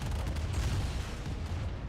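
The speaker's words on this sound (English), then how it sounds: "Oh, artillery does boom." Dense, rumbling artillery explosions and gunfire from Command & Conquer Remastered crowd together in a steady, loud barrage of low booms with no pauses, running the whole stretch without voices.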